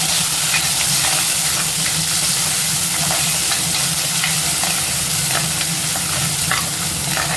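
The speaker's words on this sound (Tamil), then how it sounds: "2 பச்சை மிளகாய் இதையும் சேர்த்து இது கூடவே வதக்கிக்கலாம்." Green chillies and a tomato sautéing in a pan for sambar, a loud, steady close sizzle with light stirring scrapes throughout.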